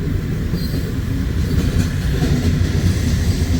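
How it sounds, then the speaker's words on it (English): An eastbound freight coal train, two coal trains joined into one long drag with mid-train distributed power units, rumbles loudly past at close range in Missouri Valley, Iowa, with heavy low wheel roar and faint wheel squeal. "this is a mega coal drag. It's 2 coal trains in one."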